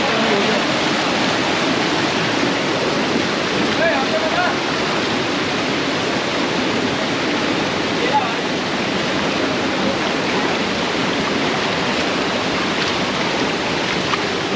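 A hidden waterfall on a mountain trek near Bir Billing in Himachal Pradesh pours in a constant dense roar, steady and loud throughout with no break.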